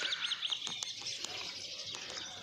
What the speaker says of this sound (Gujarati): જો ચકલાઓનો ચી ચી સાંભળો તમે